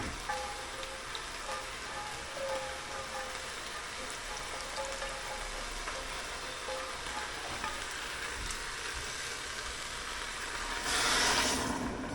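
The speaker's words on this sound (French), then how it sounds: "on prend l'eau avec la garniture aromatique. Du coup, je la balance là-dedans. Ça va déglacer un petit peu." A hot pan is deglazed with water and aromatics, giving a steady sizzling hiss with faint scraping from a wooden spatula, and the sizzle swells briefly near the end.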